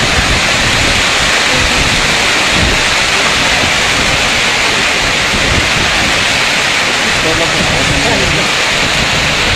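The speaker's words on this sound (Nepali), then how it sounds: "हावा पानी चलिरहेको छ।" Heavy rain and wind pour down in a Darjeeling hail storm, a loud, continuous hiss and rush that holds an even level throughout without any break.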